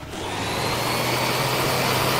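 A steady, loud vacuum hoovering whir from the VR game Titans Clinic, running continuously with no break.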